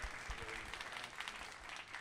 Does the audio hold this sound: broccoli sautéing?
no